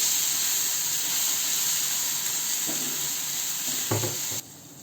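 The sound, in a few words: green chili sautéing in oil with mustard seeds and cumin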